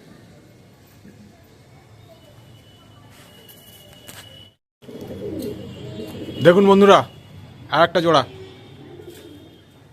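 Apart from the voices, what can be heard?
Chennai breed pigeons cooing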